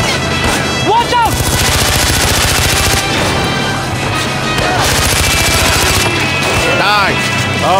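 Automatic weapons fire in the shooter game Far Cry 4 rattles in loud, rapid, sustained bursts with scattered heavier shots, while players shout excitedly over the gunfire.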